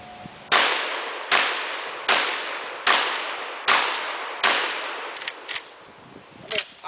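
A 12 gauge shotgun fires wax slugs at cast iron, six loud evenly spaced blasts each ringing off the metal target with a sharp clang, followed by softer clinks of falling fragments.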